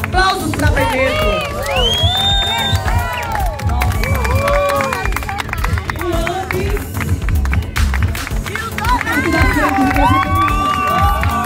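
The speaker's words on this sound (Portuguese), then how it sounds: "Um aplauso pra Penedo!" Loud crowd at a parade contest for the town of Penedo, with cheering, scattered clapping and shouted voices over dense babble and a steady low rumble, sustained throughout.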